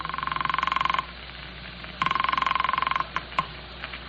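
Telephone ringing in a 1940s radio drama: two long, loud, buzzing electric ring bursts, each about a second long and separated by a pause, followed by a few short clicks.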